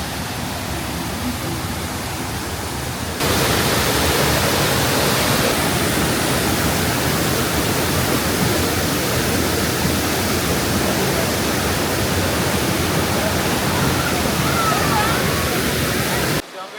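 A small tributary creek in Guyana rushes and splashes in a loud, steady broadband roar that swells after a few seconds and holds constant, up close and alone, cutting off abruptly at the end.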